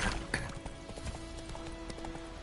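The horse Roach gallops in The Witcher 3, with rapid rhythmic hoofbeats clip-clopping steadily under a faint tonal game score, fairly quiet throughout.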